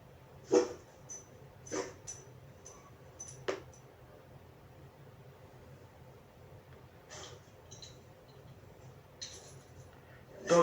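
A dog stares into a room and whimpers in short, soft, high whines spaced a few seconds apart over a steady low background hum.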